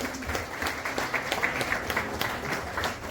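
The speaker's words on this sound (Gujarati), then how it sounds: "જોરદાર તાળીઓથી વધાવીશું" Sustained applause from an audience at a college parents' meeting during a Vasant Panchami celebration, steady clapping filling the room without speech.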